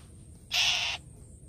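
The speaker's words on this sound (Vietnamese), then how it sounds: "Chim nó nhiều" Crow-like birds calling outdoors at night, a single harsh call lasting about half a second over faint background quiet.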